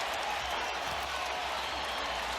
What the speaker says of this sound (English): you hear the crowd reacting